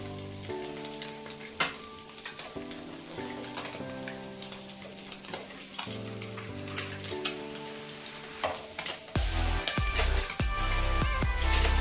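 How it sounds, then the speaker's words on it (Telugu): Eggs fry in a pan with a steady, crackling sizzle that spits and pops throughout, close by, growing louder and denser toward the end as they are turned, with faint background music. "ఈ విధంగా ఫ్రై అవుతున్న ఎగ్స్ని ఇంకొక సైడ్కి తిప్పుకుందామండి స్లోగా."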